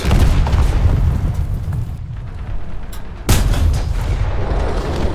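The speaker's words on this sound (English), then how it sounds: "Single shot with a 37 right through the side armor." A 37 mm tank gun fires in War Thunder, punching through the side armor of a KV-1C, a sharp boom breaking through loud continuous battlefield rumble and engine noise.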